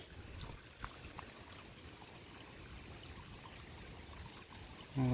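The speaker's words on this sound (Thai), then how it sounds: "มองน้ำไหลนี่" Steady, rushing water flows continuously at a low level, like a stream running nearby after heavy rain, with a brief sharper knock partway through.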